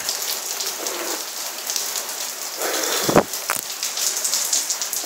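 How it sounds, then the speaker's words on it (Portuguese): Heavy rain pours steadily in São Paulo, a dense close hiss of drops striking surfaces, with a brief sharper splash or knock near the middle and no voices. "Tô gravando esse vídeo na chuva."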